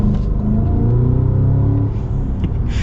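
A 2026 Cadillac CT5-V Blackwing V8 engine rumbles and revs steadily at close range, a deep continuous drone swelling slightly before easing off, with no talking.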